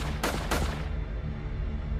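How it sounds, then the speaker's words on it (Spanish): Three rapid pistol shots fired at a monstrous creature in a horror story, sharp loud cracks in quick succession at the start, then a lingering rumbling tail with no talk. "Saqué mi pistola de la funda y disparé 3 tiros al Wendigo."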